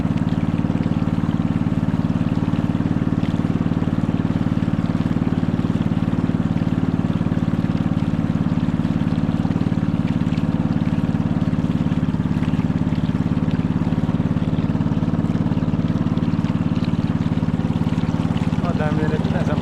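A motorized outrigger bangka runs steadily across the water, its engine droning in a continuous low hum alongside faint splashing and trickling for the whole stretch.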